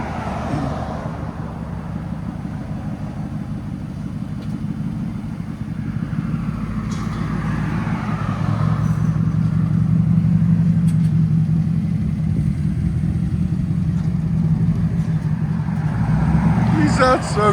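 Deep, steady exhaust rumble from a 2002 Lexus LS 460 with a 4.6L V8 and true dual straight pipes, idling and revving low and loud throughout, building slightly midway, while people talk faintly over it.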